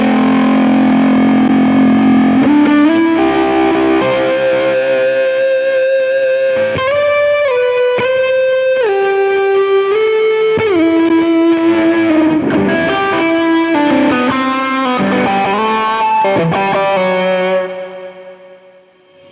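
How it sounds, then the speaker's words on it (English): An electric guitar is played through a bend fuzz effect on a Hotone Ampero modeler, giving a thick, distorted tone as a string of sustained notes and chord changes rings out loudly, then fades at the end. "That's a bend fuzz."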